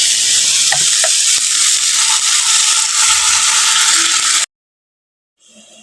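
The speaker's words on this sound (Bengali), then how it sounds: "এখন আমি দিয়ে দেবো সামান্য পরিমাণ জল দিয়ে দেবো" Water is added to a sizzling crab curry in a pan, producing a loud continuous frying hiss with a few clicks and stirs, then a sudden cut to silence and a faint return.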